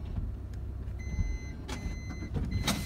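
A 2016 Honda Odyssey rear power sliding door runs open with a motor whir and mechanical clunks, with a few steady electronic tones inside the car and no talking.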